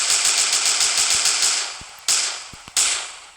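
Rapid video-game gunfire in a Baldi mod chatters in a fast, loud, close burst of shots, then slows to a few separate single shots, each with a short decaying tail.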